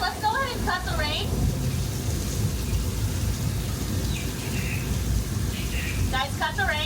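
A practical rain effect on a Universal Studios Hollywood set pours down as a steady, dense hiss of falling water throughout, with people talking over it.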